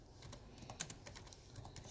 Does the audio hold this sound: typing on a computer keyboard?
yes